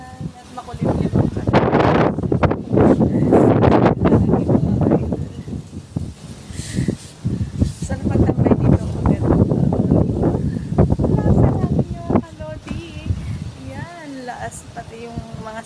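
Wind gusts across a rooftop and stirs coconut palm fronds with a rushing, rustling roar that rises and falls under a woman's speech.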